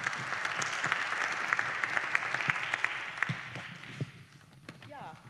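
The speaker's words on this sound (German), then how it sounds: "Applaus" Audience applause after a welcome at an interreligious dialogue panel discussion, a steady, moderately distant patter of many hands that thins out toward the end as a voice begins speaking.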